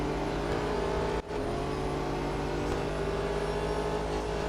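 Race cars accelerate and overtake in the racing game Real Racing 3, a continuous close engine drone with a rising pitch and a brief dip partway, no talk over it.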